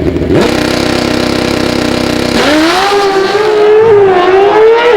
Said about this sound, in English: Nice launch there from Tommy.